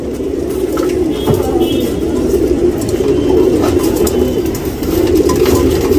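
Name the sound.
pigeons cooing, tournament racing pigeons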